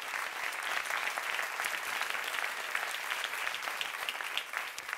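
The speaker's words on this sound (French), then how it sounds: "On peut les applaudir, s'il vous plaît." An awards gala audience applauds steadily, a dense wash of clapping hands sustained throughout without pause.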